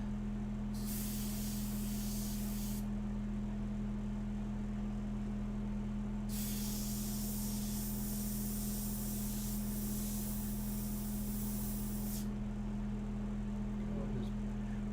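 An airbrush sprays light paint mixture in long steady hissing bursts, three extended blasts separated by pauses, heard close over a constant low electrical hum.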